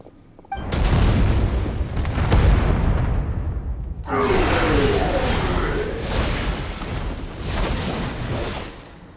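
Cannon fire in Genshin Impact: a heavy booming blast erupts with a rumbling roar, then a second explosion crashes in with crackling debris, loud and sustained, under faint voices.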